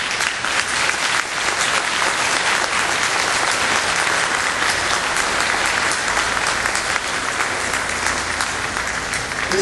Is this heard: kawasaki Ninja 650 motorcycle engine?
no